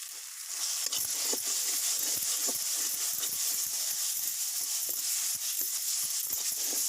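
Spiced masala with turmeric and roasted cumin powder sizzles steadily in a wok as it roasts for an egg curry, a dense continuous frying hiss broken by frequent small crackles and stirring scrapes, close and alone without voices.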